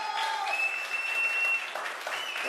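An audience at an app launch event responds to a call to make noise, producing dense applause mixed with whistles and cheering, continuous and fairly loud throughout.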